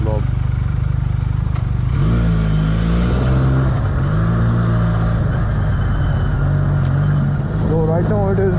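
A Benelli 302R inline two-cylinder motorcycle engine with stock exhaust and a performance air filter runs loud and steady, with its pitch rising and falling through several revs.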